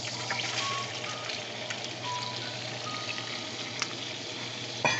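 Mushrooms fry in leftover Salisbury steak fat in a pan, giving a steady, moderate sizzle with a faint tick and a soft clatter near the end.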